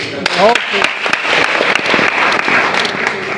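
Loud audience applause at a political rally, dense and sustained clapping throughout, with brief shouts and voices mixed in near the start.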